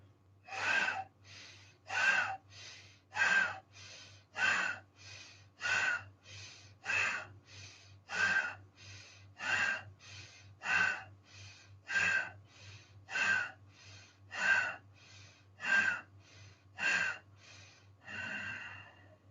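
Yoga pranayama breathing: about fifteen forceful breaths in and out at a steady, even rhythm, close and clear over a low hum, with no talking.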